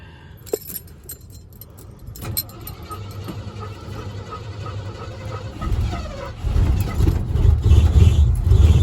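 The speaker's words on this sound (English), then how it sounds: "All right, let's see how it starts." A pickup truck with a recent engine fault starts after keys jingle, then cranks and catches into a rough, rising idle that grows louder toward the end, with brief talk.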